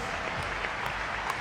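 A crowd at a Eurobasket 2015 basketball game between Spain and Poland applauds the athletes with a steady, dense wash of clapping throughout this short moment.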